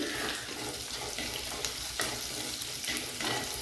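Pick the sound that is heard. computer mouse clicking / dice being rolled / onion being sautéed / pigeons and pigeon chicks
onion being sautéed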